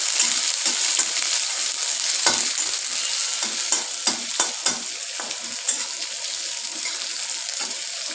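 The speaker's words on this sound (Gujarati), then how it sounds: "હવે ડુંગળી નાખીશું. ડુંગળી સરસ લાલ થવા દેવાની." Onions fry in a pan after garlic and cumin tempering for a bitter gourd dish, a loud continuous sizzle with clattering stirring strokes scattered throughout, close by and with no talk.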